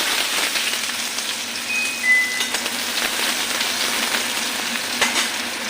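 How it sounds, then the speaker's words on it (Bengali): Chopped onion frying lightly in hot mustard oil, a continuous crackling sizzle with faint stirring, close and steady with no talking. "পেঁয়াজটা একটু হালকাভাবে ভাজা করে নিই"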